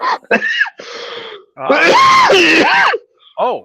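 A person lets out a sharp sneeze near the start, followed by voiced gasps and groaning vocal sounds during casual conversation at a live aquarium hobbyist meeting, with talk around it.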